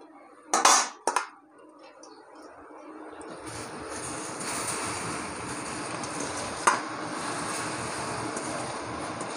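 Amaranth greens drop into a pan with two brief clattering bursts, then a soft frying sizzle builds and holds steady, with one small scrape of stirring partway through.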